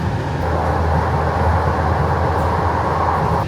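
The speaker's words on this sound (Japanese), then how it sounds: "いきなり路面電車になりましたね。" Seattle light rail train running along a street at speed, a steady close rumble with rolling wheel noise throughout and no talk.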